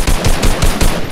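Rapid automatic gunfire in Fortnite, four or five loud, punchy shots in quick even rhythm, close and dominant with no talking.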